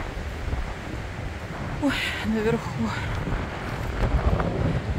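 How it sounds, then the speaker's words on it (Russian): Strong, cold wind roars steadily across the microphone beside a stormy sea at Vääna-Jõesuu, Estonia, while a person briefly speaks partway through. "На море шторм, а здесь"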